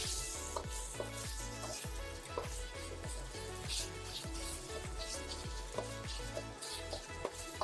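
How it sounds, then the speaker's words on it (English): Beef sizzles in hot neutral cooking oil in a wok, a soft, steady frying hiss broken by regular scraping stirs, faint and close. "Add in some cooking oil. For cooking oil, you want a neutral oil without a lot of flavor. Add in your beef and cook until about halfway done."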